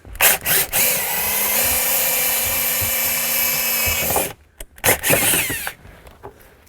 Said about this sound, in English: take our 7/8 circular bit here, and we're just going to center it up and drill